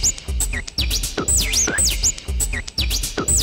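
A sampled loop chopped into sixteen equal slices plays back in the Sugar Bytes Egoist iPad app: dense, loud electronic hits with rapid pitch-swept tones that restart on a steady grid.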